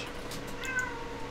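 A cat meows briefly in the Minecraft FTB Ultimate modpack, faint and short against a low game background hum.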